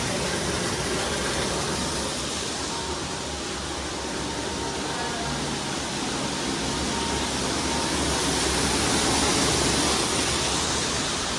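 Continuous broad rushing from the indoor waterfall in the Gaylord Opryland atrium, loud and steady from close by, swelling slightly toward the end with no voices.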